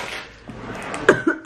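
A few short nervous coughs come in a small cluster near the end, close and fairly soft, after a quieter breathy stretch with no talking.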